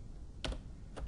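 Keys clack on a computer keyboard while a username is typed into a login page, quick close keystrokes in two short bursts over faint room hiss.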